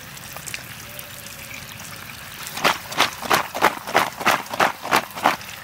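Water is poured and splashed over freshly dug potatoes being washed and peeled by hand. A low murmur is followed by a steady run of about ten rhythmic, splashy bursts, close and fairly clear.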